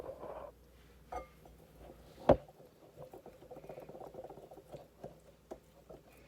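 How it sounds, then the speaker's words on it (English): Homemade pancake mix batter being whisked by hand to break up lumps: soft, irregular scraping and ticking at low volume, with one sharper clack partway through and no talking. "I'm gonna have to get me a whisk because I want to get all the lumps out"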